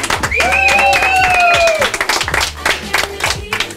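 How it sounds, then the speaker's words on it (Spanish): A studio audience on a breakdance-themed show claps after a performance, with rhythmic individual claps and a loud whoop or cheer rising over the clapping, plus low music throbbing underneath. "¡Un aplauso!"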